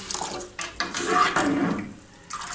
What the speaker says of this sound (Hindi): इसमें 1 कप ठंडा पानी डाल दें, क्यूब्स वाला ठंडा या बिल्कुल ठंडा